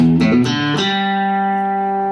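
Guitar playing the opening lick of a song, three quick hammered-on plucks followed by a ringing chord that sustains and slowly fades, close and clear with no speech.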